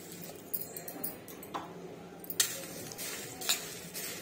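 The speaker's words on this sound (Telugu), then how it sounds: "కొంచెం వేడిగా ఉన్నాయనేసి నేను మళ్ళీ గరిటె పెట్టి కలుపుతున్నానండి" A ladle stirs a warm mixture of jowar flakes (poha) in a vessel for a crunchy snack mix, producing soft scraping and a few sharp metallic clinks spread across several seconds, faint and close, with no talking.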